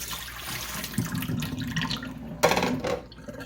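Water flushes through a new Whirlpool refrigerator water filter, running steadily with splashy surges and a brief louder gush near the end, close by with no talk.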